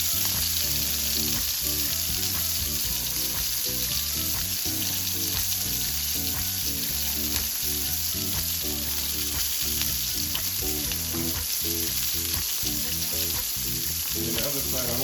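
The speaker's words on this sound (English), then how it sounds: "once I get that seared, I'm going to flip it back over and then put it in the oven." Jerk mango sea bass searing in a hot pan gives a loud, continuous close sizzle that runs the whole time, with light stirring or shifting noises and background music over it.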